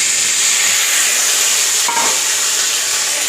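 Boiled snake gourd hits hot oil seasoned with mustard seeds, urad dal and curry leaves, giving a loud, steady sizzle and hiss that fills the whole stretch, with a brief stir partway through.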